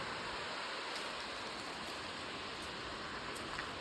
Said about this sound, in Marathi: आपण थोडं धबधबाचा व्ह्यू घेऊ